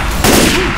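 Assault rifle fire in Left 4 Dead 2 during the Blood Harvest campaign in versus mode, a loud dense burst that starts abruptly and continues steadily under game noise.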